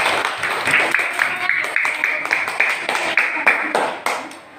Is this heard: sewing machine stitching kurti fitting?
no